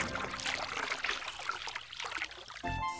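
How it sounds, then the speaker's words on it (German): Water is scooped with a bottle lid in a bathroom and poured, giving a few seconds of close trickling and dribbling, then a small splash at the end. No one speaks. "Mit dem Deckel schöpfen wir noch ein bisschen Wasser ein."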